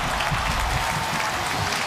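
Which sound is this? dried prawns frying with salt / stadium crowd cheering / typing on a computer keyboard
stadium crowd cheering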